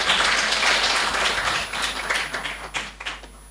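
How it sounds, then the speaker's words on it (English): Applause for guests at an international university seminar in Indonesia, a moderate patter of hands that loosens into scattered individual claps near the end, over a faint electrical hum. "Give applause to our guests"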